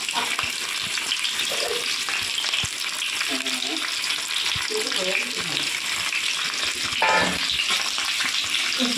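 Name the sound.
potatoes frying in hot oil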